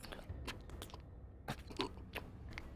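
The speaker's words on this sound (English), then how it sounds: "like a munching, gnawing on something, and also a knocking" Munching and gnawing effect for a tabletop game scene, a series of irregular crunchy bites and scrapes, close and fairly quiet, with no talk.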